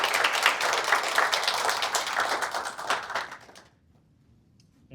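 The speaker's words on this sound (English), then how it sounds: "Everyone, big round of applause for Matthew." Audience applause for Matthew McEntire at a Vertical Immersive gathering: a dense, steady crowd of clapping that holds for about three seconds, then quickly fades into near-silence.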